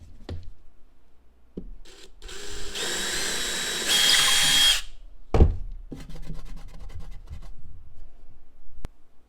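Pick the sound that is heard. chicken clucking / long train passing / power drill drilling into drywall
power drill drilling into drywall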